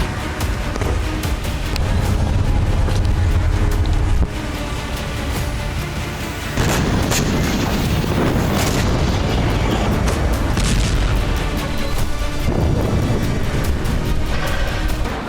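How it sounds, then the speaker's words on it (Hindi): Continuous heavy booming and rumbling of wartime explosions around the Golan Heights, loud and dense throughout, with several deep blasts rolling over one another. "गोलन हाइट्स और उसके आगे के क्षेत्र में धमाके सुने"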